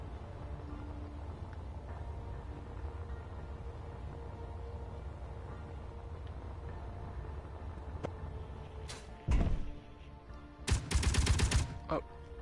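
Video game gunfire crackles in short bursts over a steady low background rumble, two louder volleys near the end.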